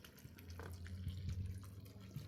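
Water mixed with liquid fertilizer soaking a repotted Monstera Thai Constellation in semi-hydro substrate with zeolite, a continuous close pouring and trickling flow with low gurgling, and no talking.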